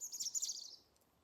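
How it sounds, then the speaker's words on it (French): Small songbirds chirping in a forest in Brittany, a quick cluster of high, thin tweets close by that fades out after under a second into near silence. "je suis avec les petits oiseaux qui chantent."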